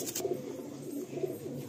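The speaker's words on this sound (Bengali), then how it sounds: "আমার সব পায়রা তিমিদের ঘরে।" Domestic pigeons of Madrasi, Malwai and Andhra breeds cooing in a loft, soft low repeated coos at close range with no voices.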